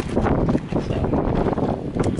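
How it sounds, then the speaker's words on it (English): Strong wind gusting outdoors on a hot day at an outdoor grill, a steady roaring buffet across the microphone with no pauses. "there's a lot of wind today"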